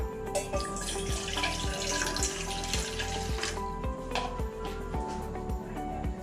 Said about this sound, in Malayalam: നമുക്കൊരു പാത്രം അടുപ്പി വെച്ചിട്ട് കുറച്ച് വെള്ളം ഒഴിച്ചു കൊടുക്കാം